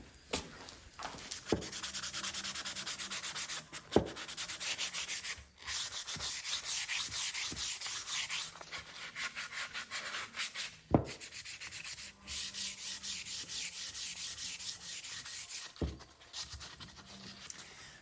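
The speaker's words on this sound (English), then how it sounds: "So I'll get all this hand sanded done on all these pieces, and we'll be ready for some stain." Hand sanding of wooden furniture pieces: long, steady back-and-forth abrasive strokes, close and fairly loud, running continuously with brief pauses and a few knocks between passes.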